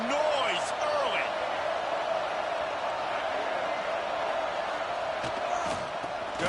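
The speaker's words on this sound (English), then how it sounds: "This crowd bringing the energy and noise early." Steady stadium crowd roar in a football video game, a constant loud wash of massed voices and cheering with faint commentary-like voices over it throughout.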